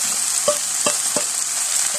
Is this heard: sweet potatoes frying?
yes